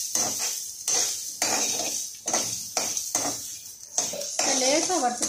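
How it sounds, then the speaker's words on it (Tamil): Grated coconut being stirred and lightly roasted in a pan for poricha kuzhambu, a spoon scraping and knocking against the metal in a steady repeated rhythm, close and fairly loud. "இப்போ நம்ம இதில் கொஞ்சம் தேங்காயை போட்டு லேசாக வறுத்துட்டா போதும்."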